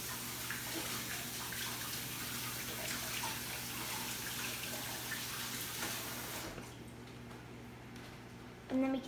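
A kitchen tap runs steadily while hands are washed after handling raw poultry for a turkey meatloaf, a continuous close splashing flow that stops near the end, with people talking over it.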